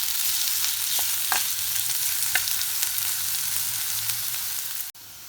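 Garlic ginger paste and onions frying loudly in a pan for a lamb trotter paya curry, a continuous dense sizzle with a few stirring scrapes and a brief dip near the end.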